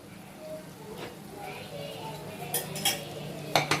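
Chicken and masala being stirred in a pan for chicken fry, light scraping and clinking of a spoon against the pan over a faint sizzle, with sharper clanks toward the end.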